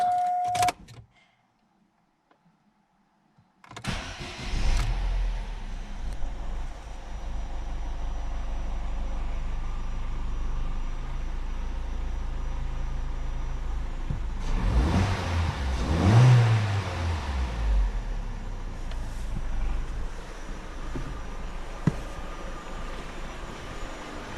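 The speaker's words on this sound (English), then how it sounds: "Now I can start the engine" An Opel Zafira 1.6 engine, just fitted with a new valve cover, cranks and catches after a silent pause, then settles into a steady close idle with a brief rev swell midway.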